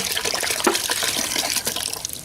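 A gallon of water pours steadily into a bucket, a continuous close splashing and gurgling stream that lasts the whole stretch.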